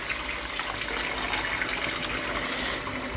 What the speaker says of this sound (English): Still starch there, so I'm going to put some more water in there.